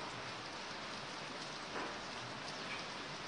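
Steady rain patters on a surface, a soft continuous hiss with no voices.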